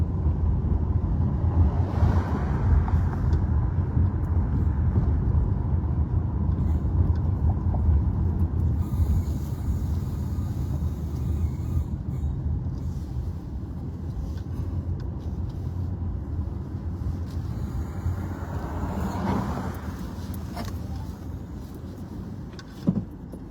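Car driving slowly around the streets of Lille while looking for a parking spot: a low rumbling cabin and road noise throughout, with wind-like hiss and a faint swell of passing traffic, no talking.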